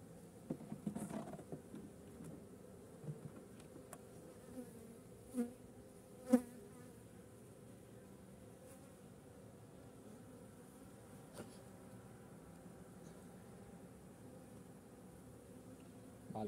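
A low, continuous buzz of a few honeybees in a hive, quiet and steady, with a few faint clicks and bumps near the start.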